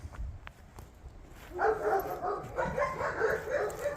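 A rambunctious dog named Sneak whimpers and yips softly nearby, then lets out a run of short, muffled barks and whines, with faint shuffling footsteps in the background.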